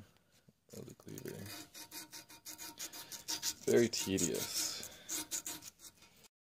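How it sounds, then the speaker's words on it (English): Sanding and polishing the egg section of a hand-forged steel meat cleaver makes a continuous rasping, rubbing scrape in uneven strokes. A voice speaks briefly over it. "Now I am sanding and polishing the egg part of the cleaver."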